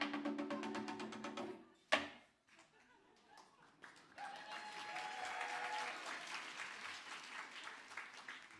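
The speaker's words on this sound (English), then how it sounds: "You clap for mediocre performance." Audience applause at a comedy show, a burst of clapping and crowd noise at the start, a sharp loud clap, then a quieter pause before sustained applause swells and continues to the end.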